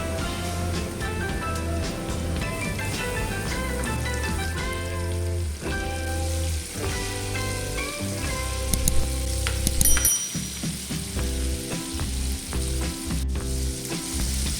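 Chicken wings frying in hot oil, a loud, close, continuous crackling sizzle with dense popping that swells briefly partway through, with no talking over it.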